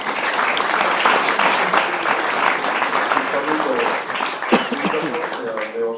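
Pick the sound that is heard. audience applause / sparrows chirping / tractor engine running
audience applause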